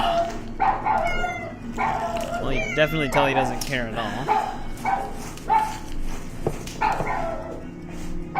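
Off in the background, a dog barks and yips in short bursts while someone talks over it, the barking mixed under the conversation during a play session of Assassin's Creed 4: Black Flag.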